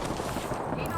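Gunfire in a squad shooter game, a short dense burst of rapid shots at moderate level that runs through the whole second with no pause.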